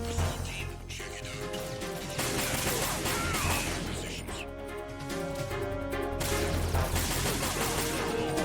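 Rapid gunfire bursts in Metal Gear Solid 2: Sons of Liberty, dense and loud over game music and ambience, with crashing impacts and a voice talking throughout.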